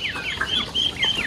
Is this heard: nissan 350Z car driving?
no